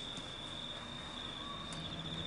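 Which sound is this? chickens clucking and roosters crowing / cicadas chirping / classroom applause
cicadas chirping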